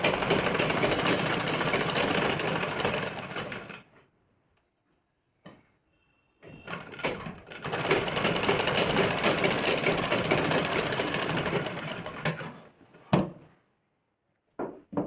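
A sewing machine stitches a kurti collar in two bursts of steady mechanical whirring, each several seconds long, separated by a pause with a few handling clicks and taps.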